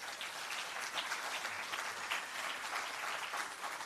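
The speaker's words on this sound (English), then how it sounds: "Give yourselves a round of applause." Sustained applause from an audience at the launch event of a public sector debate competition, a dense, even wash of clapping hands lasting the whole stretch, moderately distant and alone.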